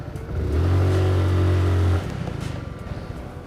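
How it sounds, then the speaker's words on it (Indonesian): A motorcycle engine is revved hard at full throttle for about a second and a half, a loud steady drone that then drops back to a rough idle, with no talk. "andai kata kalian buka gas full banget juga nggak bakal lompat atau nggak bakal langsung melejit motornya"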